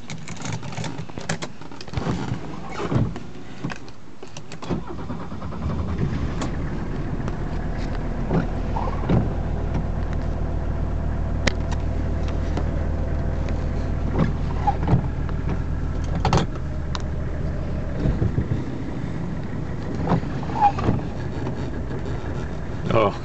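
1983 Mercedes-Benz 300D turbo diesel W123 with the OM617 engine cranking and settling into a steady low diesel idle, heard close amid handling clicks and occasional talk.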